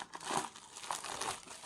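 Nylon packaging around a power bank is torn and ripped open, giving a close, steady run of crinkling and rustling plastic with a few sharper crackles, with no talking.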